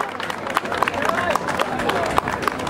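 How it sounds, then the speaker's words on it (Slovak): An audience at a panel discussion applauds a guest, a steady patter of many hands clapping at moderate distance, continuous for a few seconds with light crowd murmur underneath. "Poprosím potlesk pre pána Juraja Hybša"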